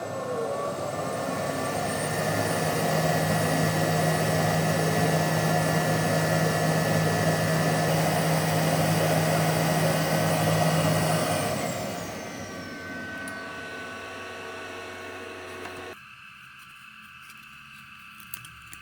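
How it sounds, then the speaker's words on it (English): The fume extractor of a Mecpow M1 laser engraver runs as a steady, airy blower roar with a high whine, then winds down and stops, leaving near-quiet room tone. "Next, I'll turn on the fume extractor here, and just let that run for a few minutes,"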